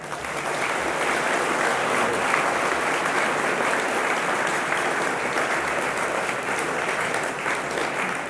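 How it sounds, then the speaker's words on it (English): A large audience at an evening sustainability awards showcase applauds in a dense, sustained roar of clapping that holds at an even, loud level throughout, with no talk over it. "can I have a last big round of applause?"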